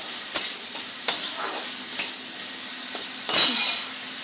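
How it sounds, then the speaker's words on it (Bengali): Potatoes frying in a pan for a posto-style dish, a steady sizzle broken by a few sharp scrapes of a spatula stirring them, close and fairly loud with no voices. "আলুটাকে লাল লাল করে ভেজে নেব"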